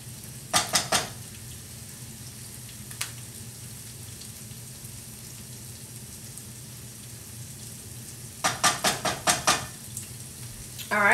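Ginger added to a pan for vegan beef and broccoli, heard as a soft continuous sizzle beneath sharp clusters of metal utensil clinks against the pan near the start and end.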